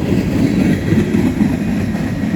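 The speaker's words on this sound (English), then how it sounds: "As you see, there's a train coming on by" A train rumbles steadily past nearby in the woods above a river, a continuous loud low roar with faint rail clatter throughout.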